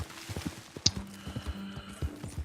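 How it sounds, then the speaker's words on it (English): Horse in Red Dead Redemption 2 whinnies sharply after being punched, amid a series of hoof clip-clops and stamping, close and fairly quiet with no talking. "I cannot believe I punched the horse."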